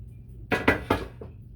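Glass jars of home-canned collard greens are lifted out of a pressure canner with a few quick clinks and knocks, three or four close hits in a row over a quiet background.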